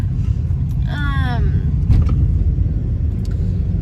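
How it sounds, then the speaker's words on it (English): Steady low road rumble fills the inside of a moving car, loud and continuous, with a brief voice sound breaking in near the start. "We are in the car, so it might be kind of bumpy and moving a lot."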